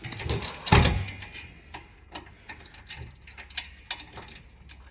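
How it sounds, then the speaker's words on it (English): A ratchet spanner tightens a bolt by hand while fitting a fold-down T-step to a Ranger Raptor, giving one loud burst of clicking followed by quieter, scattered ratchet ticks, close up with no talk. "It'll have to be done manually by ratchet spanner."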